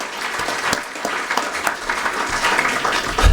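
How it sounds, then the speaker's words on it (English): A crowd at a Hall of Fame breakfast ceremony applauds continuously, a dense, even wash of many hands clapping that fills the room without pause. "Round of applause"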